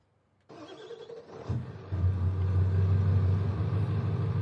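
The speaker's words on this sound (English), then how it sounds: "The truck is loud." A loud truck engine on a farm during oat and grass planting starts rumbling after a quiet moment, then swells into a steady, heavy, close-up drone that fills the rest of the stretch without any talk.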